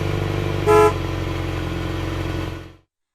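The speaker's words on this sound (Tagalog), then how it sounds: "sasakyan," A car horn gives one short, loud honk near the start, cutting over a steady hum of road traffic and vehicle engines that continues until the sound ends abruptly.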